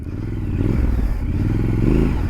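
A 2021 Triumph Scrambler 1200 XE rumbles loudly on a dirt track, its engine pulsing steadily close by as the tyres slide and scrabble over loose ground.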